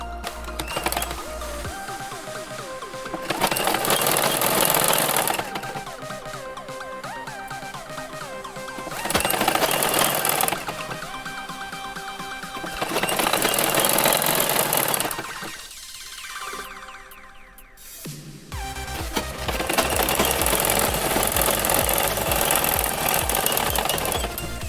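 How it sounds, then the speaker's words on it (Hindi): Sewing machine stitching a straight seam on a long party gown with side cutouts, several bursts of rapid mechanical chatter close up, separated by short pauses and quieter handling. "फिर एक सीधी सिलाई लगा लेंगे।"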